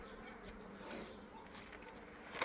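Honey bees buzz around a hive at an apiary in late March, a soft, steady drone of many insects close by with no talking.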